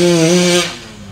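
A racing motorcycle engine at a 2022 drag race in Terengganu, with a loud, steady, high-pitched buzzing drone for about half a second before it drops away and fades.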